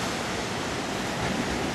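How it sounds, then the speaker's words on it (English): Ocean waves washing into a small inlet by a private little beach, a steady broadband roar of surf heard continuously and fairly loud, with no voices. "Right here at the ocean. How would you like to live here? Nice little inlet here."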